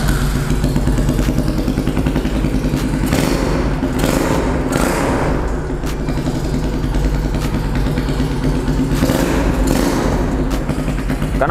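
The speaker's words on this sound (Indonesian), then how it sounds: "Knalpotnya itu ketika dipakai jalan itu berisik banget, pecah gitu suaranya" A 225cc chopper motorcycle runs with a loud, raspy, cracking exhaust, idling steadily close by with occasional blips of revving and clattering thumps throughout.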